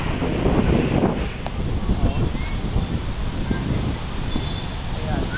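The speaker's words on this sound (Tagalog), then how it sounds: "Ang mahangin" Steady wind buffets the microphone with a loud, rumbling roar throughout, low gusts rising and falling, with a faint wash of surf behind it, on the Manila Bay baywalk.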